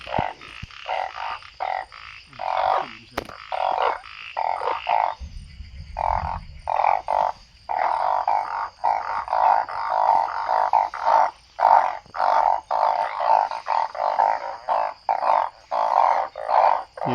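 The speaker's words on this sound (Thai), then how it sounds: "นี่ได้เสียงอึ่ง" Banded bullfrogs croak in a rural wetland forest, a loud, dense chorus of repeated nasal calls pulsing in quick rhythm, several frogs overlapping close by with brief gaps throughout.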